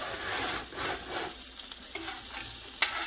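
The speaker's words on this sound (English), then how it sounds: "So I'm just going to toss these, get them well coated in that bacon grease." Mushrooms tossed in hot bacon grease in a pan, a soft steady sizzle with light stirring scrapes and a small clink near the end, fairly quiet and with no talk.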